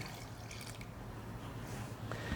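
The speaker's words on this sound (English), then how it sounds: "We have the buttermilk itself. And I'm going to pour that in." Buttermilk pours steadily into a buttermilk pie filling, giving a continuous soft liquid wash at low, even volume throughout with a faint dribbling texture.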